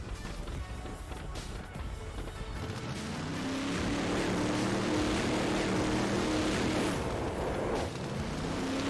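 The Z-Tech Quanta, a high-speed car in the video game Brick Rigs, revs as it drives. Its synthetic engine whine climbs and shifts through gears over a loud, continuous rumble, then drops away at the end.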